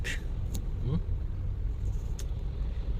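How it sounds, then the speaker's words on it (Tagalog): Heavy road traffic rumbles low and continuously nearby, with passing car engines and a couple of brief higher-pitched mechanical squeals, while a voice talks over it. "Sobrang traffic."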